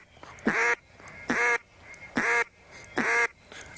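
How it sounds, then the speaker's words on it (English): Duck call blown as a louder quack, four loud evenly spaced quacks about a second apart, close and alone with no talking. "From that step, you want to go to a little louder quack"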